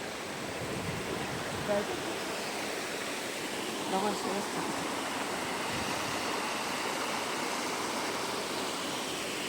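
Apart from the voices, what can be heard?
waterfall rushing at a picnic spot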